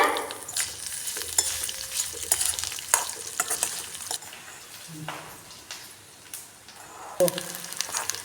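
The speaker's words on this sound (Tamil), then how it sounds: "இப்போ வெங்காயம் ஆட் பண்ணிக்கோங்க" Onions frying and being stirred in a pan with curry leaves, a steady sizzle under intermittent scraping stirs that come close and fairly loud, with no talking.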